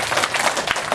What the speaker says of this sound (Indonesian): Tepuk tangan dulu untuk anggota KPU ya.